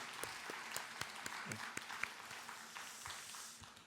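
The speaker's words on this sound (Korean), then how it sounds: "우리 함께 격려의 박수 하겠습니다" Applause of encouragement for church officers and elders in a Korean church service, a quiet patter of scattered claps spread across the room, fairly faint and tapering off toward the end.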